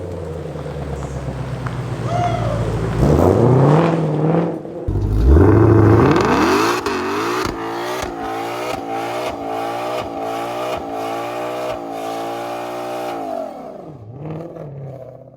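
2020 Ford Mustang Shelby GT500 at a drag strip, engine revving hard then launching with a loud rising roar and tire burnout, followed by repeated gear-shift pulses as it pulls away and fades.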